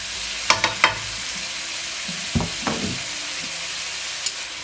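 Nasi goreng frying in a pan right after soy sauce goes in, with a low steady sizzle broken by a few sharp clatters and scrapes of stirring, and no voices.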